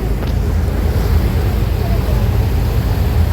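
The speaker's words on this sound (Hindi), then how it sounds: "नीचे इंजन है इसके।" Loud, constant engine rumble and roar on the lower deck of an Istanbul ferry, with heavy low drone and wind-like noise throughout.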